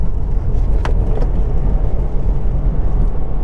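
A 2020 Subaru WRX with a manual gearbox downshifts from third to second, its engine note steady and loud inside the cabin, with a couple of short clicks from the car early on.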